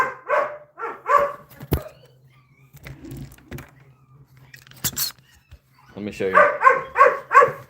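A dog barks and yips in short bursts up close, with a person speaking briefly in between the outbursts.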